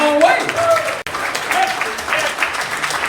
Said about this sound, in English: Y'all got to clap for him as well